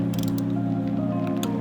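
A torque wrench tightens bolts on a Toyota V8 engine to 13 foot-pounds, giving a few quick close ratcheting clicks over a steady mechanical hum.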